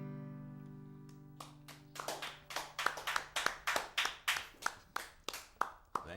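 An audience claps after a short song at a live performance. Firm, evenly spaced claps ring out close by as the last sustained notes fade away.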